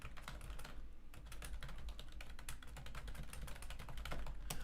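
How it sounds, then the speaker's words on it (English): Fast, steady typing on a computer keyboard: a dense stream of close, crisp key clicks over a low background hum, with no speech. "In fact, I can type this one up."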